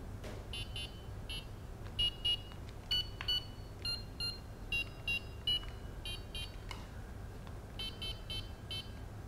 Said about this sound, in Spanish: las diferentes posiciones de las notas musicales que podríamos utilizar para generar pitidos en un aparato